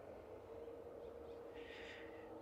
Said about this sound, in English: Some really weird bird noises behind.